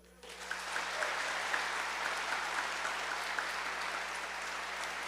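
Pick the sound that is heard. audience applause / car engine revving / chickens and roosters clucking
audience applause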